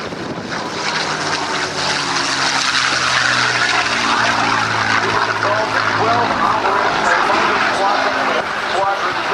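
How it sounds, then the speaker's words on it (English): A P-51 Mustang warbird makes a low, fast pass at a 2008 naval air station airshow, its propeller engine roaring loudly and steadily throughout, with a commentator's voice running over the noise. "Cameras ready as Dale comes by low and fast in the Mustang."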